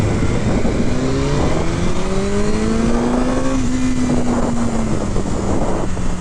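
A 2023 BMW S1000R motorcycle engine revs up during a test ride, its pitch climbing steadily and then easing back down, loud and close over continuous wind and road roar.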